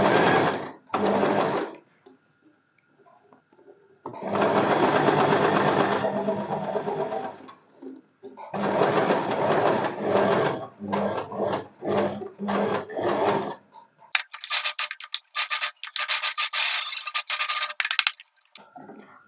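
Sewing machine stitching along a marked curve at the front neck of a kurti, running in several loud close bursts of rapid steady whirring with short pauses between, then a lighter, higher-pitched run toward the end.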